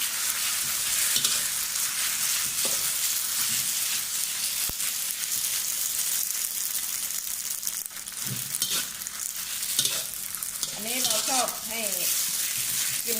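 Noodles for Thai rad na with pork sizzling and hissing as they are stir-fried in a hot wok, with occasional scraping and tossing; a voice speaks briefly near the end.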